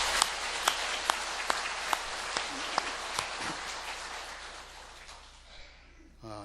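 Warm applause of encouragement fills a church as the congregation claps for teachers and volunteers, a few sharp individual claps standing out in a loose rhythm before the sound thins and fades near the end.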